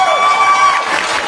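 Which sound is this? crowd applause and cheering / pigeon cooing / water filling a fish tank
crowd applause and cheering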